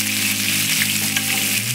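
Lamb chops sear in a hot pan with garlic and rosemary, giving a close, steady crackling sizzle that holds without a break for the whole short stretch.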